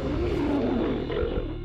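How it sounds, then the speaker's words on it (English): Deep, sustained roar of a prehistoric mega lion, the largest cat ever to have lived, filling the clip with a loud, rumbling growl that holds steady throughout. "The mega lion."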